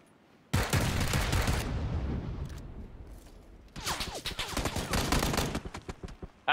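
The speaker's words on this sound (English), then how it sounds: "Ah, John, shot in the arse, mate." Gunfire in the battle-royale video game PlayerUnknown's Battlegrounds: two loud, dense bursts of rapid shots, the first running about a second and the second about two seconds after a pause, with a quieter rumble between.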